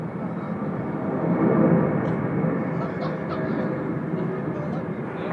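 An airplane lands at Sydney Airport on runway 34 left, a steady broadband engine rumble that swells slightly and then holds, with radio voices talking faintly underneath.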